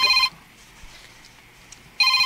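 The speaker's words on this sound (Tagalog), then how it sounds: "Ako cellphone nga mahalon, may bagting" Mobile phone ringtone: a loud electronic tonal ring plays briefly, stops for under two seconds of near silence, then starts again, close and clear.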